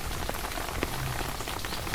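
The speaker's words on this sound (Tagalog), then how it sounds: "Umuulan po dito sa amin ngayon sa Greece." Rain falls steadily in Greece, a dense, close patter of drops striking surfaces with no letup over the short stretch and nobody talking.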